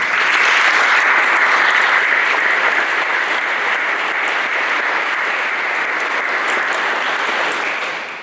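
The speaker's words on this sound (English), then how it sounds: "So if we could take a moment to also give them a round of applause." Sustained applause from a crowd at a graduation ceremony, dense and loud clapping that holds steady for about eight seconds before tapering off, with no voices over it.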